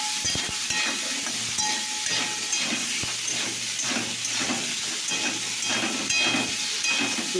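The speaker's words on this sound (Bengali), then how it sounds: "তো এবার এখানে আমি নাড়াচাড়া করবো" Spice powders of cumin, chili and coriander mixed with a little water fry in a pan while being stirred, giving a steady, fairly loud sizzle and hiss with soft scraping throughout, no voices.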